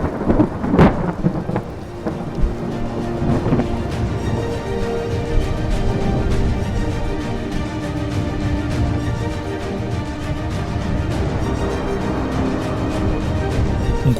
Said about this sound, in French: Nous sommes de nouveau désaxés alors que l'orage gagne en puissance.